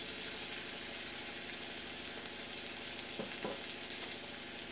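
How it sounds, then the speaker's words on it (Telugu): Chili powder being stirred into a sizzling drumstick and tomato curry in a pan, with a steady close frying hiss throughout and a couple of brief scraping stirs near the end. "వేసి ఒకసారి కలుపుకోవాలి."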